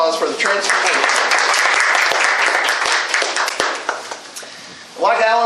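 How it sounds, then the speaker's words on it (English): Dense audience applause fills a room at a chamber of commerce community coffee held at a bank, sustained for several seconds with voices mixed in, then fading before talk resumes near the end. "How about we give them a round of applause for the transformation?"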